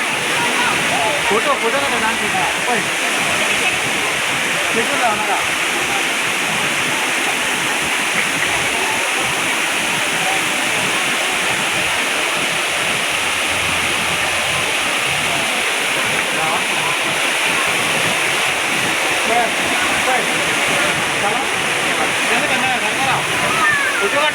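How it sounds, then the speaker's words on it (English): Indoor waterfall at Changi International Airport in Singapore, a heavy, continuous rushing roar of falling water close by, unbroken throughout, with voices likely mingled faintly in the wash. "You can see the garden in the airport and the waterfall."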